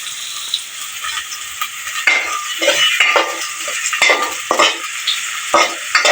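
Onions frying in mustard oil in a pan, a constant hiss of sizzling with repeated scraping and clinking strokes of a spatula stirring them.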